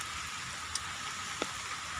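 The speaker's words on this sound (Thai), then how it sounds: "ตอนนี้ก็ฝนตกหนักแล้วกำลังจะจะหยุดตกนะครับ" Heavy rain pours down as a constant, dense hiss of falling water, broken only by a couple of faint isolated ticks.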